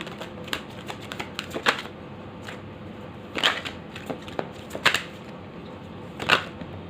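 Tarot cards drawn and shuffled by hand during a reading, giving a run of sharp papery clicks and snaps at an irregular pace, several louder flicks standing out, close and with no talk.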